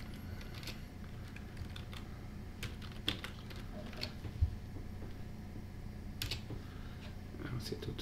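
Keys on a computer keyboard are tapped in short irregular bursts while text goes into WordPad, quiet clicks sitting under faint background hiss.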